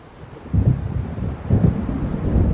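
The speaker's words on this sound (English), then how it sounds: "It seems there's a storm coming" Thunder of an approaching storm in the video game Alan Wake: two deep, heavy rumbles, close and loud, rolling out over a steady low background with no voices.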